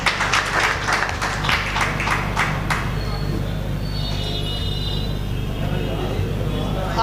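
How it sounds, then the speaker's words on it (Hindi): An audience claps loudly to welcome a guest at a stage event, a dense burst of applause for the first few seconds that gives way to a murmuring background hum. "जोरदार तालियां से इनका स्वागत कीजिए भाई।"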